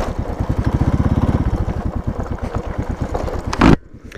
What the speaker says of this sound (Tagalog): Matipid naman tong ating motor.